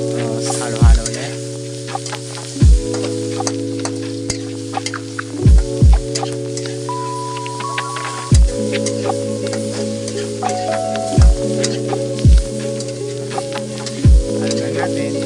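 Soy beans and snow cabbage frying in a pan sizzle steadily while a utensil stirs them, with spatula scrapes and knocks recurring every second or two and a low steady hum underneath; no voices.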